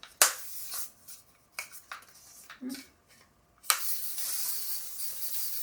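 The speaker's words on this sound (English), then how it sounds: "I'm also gonna spray my hairspray" Great Barrier heat protectant hairspray mists onto hair in a couple of short puffs, then a longer steady hiss, with small rustles and handling noises between bursts and no talking.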